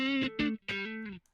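Electric guitar played through a compressor pedal set very aggressively: three sustained, heavily squashed chords in quick succession, each held evenly with little decay, close and loud with no talking.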